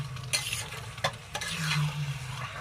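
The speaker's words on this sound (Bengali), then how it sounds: "ভালো করে খুন্তিয়ে করে কষে নিতে হবে।" Marinated mutton is stirred and fried with a spatula in a pan, giving a steady close sizzle broken by several sharp scraping strokes of the spatula and a low hum underneath.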